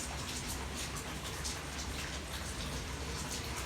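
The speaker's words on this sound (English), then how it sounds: "It's so raining." Steady rain falling outdoors, a dense continuous hiss with faint scattered drops pattering on surfaces, close and even with no other sounds.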